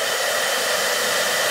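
A blow dryer runs steadily to dry paint on a custom wrestler action figure, giving a loud, constant, close-up hiss of rushing air with no variation and no voices.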